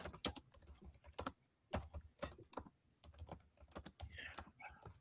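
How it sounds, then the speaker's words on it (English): Fast typing on a computer keyboard clatters in quick bursts of sharp clicks separated by short pauses, close and clear over a quiet background. "Who the hell that is typing 100 miles a minute?"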